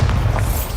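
A Bombarda explosion spell goes off in Hogwarts Legacy, a short, heavy, low boom lasting under a second, loud and close.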